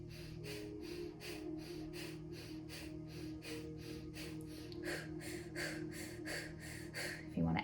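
Quick, rhythmic breathwork breaths, close and fairly quiet, repeating in a steady pulse of about two per second for the whole stretch, with a soft droning tone underneath.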